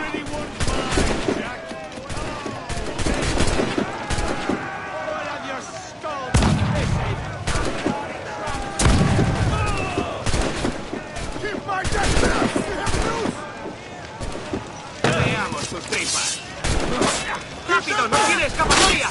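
Cannon volleys and gunfire in a naval battle in Assassin's Creed Black Flag, a dense run of booming shots and crackling blasts throughout, with shouting voices mixed into the chaos.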